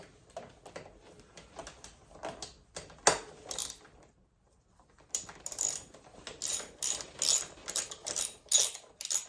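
Ratchet wrench loosening the 10mm bolts on the top triple clamps of an electric MX motorcycle, close and fairly loud: quick bursts of ratcheting clicks, a short pause near the middle, then a steady run of repeated clicking.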